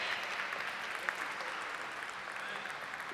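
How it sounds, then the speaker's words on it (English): A church congregation applauding new members, a steady, continuous wash of many people clapping in a large room with faint voices mixed in. "Give these folks a round of applause."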